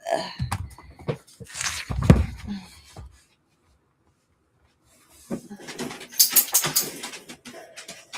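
A dog just up from a nap stirs in its kennel with soft whimpers, snuffles and rustling close by, then goes silent for a moment before more restless shuffling and whines.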